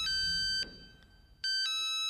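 An old 2000s mobile phone plays a monophonic ringtone melody, loud, bright electronic beeps in two phrases separated by a short gap, with no talking.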